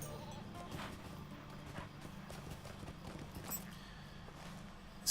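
Horse hooves clip-clop steadily in the Lord of the Rings Online video game, a continuous patter of muffled hoofbeats beneath a busy layer of in-game ambience.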